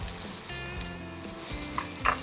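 Chopped onions fry lightly in a pan for Bengali smoked mango chicken, giving a steady close sizzle with soft stirring clinks and a couple of brief utensil knocks near the end; no one speaks.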